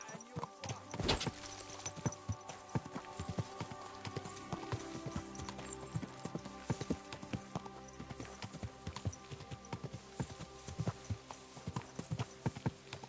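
Steady clip-clop of horse hooves on a path in the medieval role-playing game Kingdom Come: Deliverance II, an even trotting rhythm that continues throughout at moderate loudness with faint background ambience.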